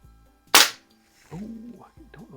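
One sharp crack from a Crosman 2240 air pistol fired at a paintball target in a garage, loud and close. Someone speaks briefly right after it.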